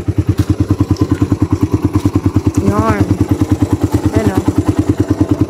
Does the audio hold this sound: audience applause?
no